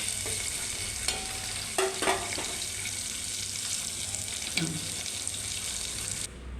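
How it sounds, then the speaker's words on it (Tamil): Chopped onions sauté in hot oil in a pan for a Tamil brinjal and tomato dish, a constant bright sizzle broken by a few scraping stirs of the spoon, heard up close without voices. "வெங்காயம் வந்து பொன்னிறமாக வதங்குற வரைக்கும் நம்ம அதை நல்லா கலரி விட்டுட்டே இருக்கணும்"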